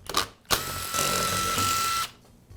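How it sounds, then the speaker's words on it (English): A power tool whirs while screws are backed out of the rear motor housing of a Makita band saw: two short clicks, then a steady high-pitched whine for over a second before it stops. "Next, I'll remove the 4 screws that secure the rear housing to the motor"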